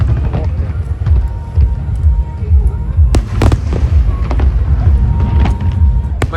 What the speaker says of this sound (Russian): Ну вот хотя бы здесь посмотрим на салюты.